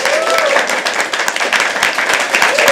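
Audience applause at a live poetry open mic, dense continuous clapping from a crowd with a voice briefly audible over it, steady and fairly loud throughout.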